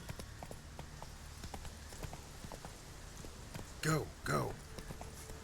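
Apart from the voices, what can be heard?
hooves of Geralt's horse Roach in video game The Witcher 3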